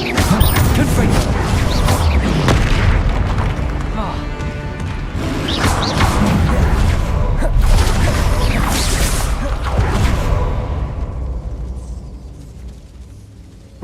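Repeated heavy blasts and crashing impacts from the Confringo blasting spell in Hogwarts Legacy, loud and continuous with booming bursts over several seconds, mixed with combat noise before fading near the end.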